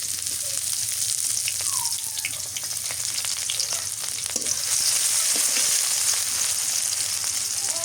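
Onions dropped into hot oil while fish is cooked with pointed gourd, giving a steady, loud sizzle and crackle that stays dense and even the whole time, with faint scraping under it.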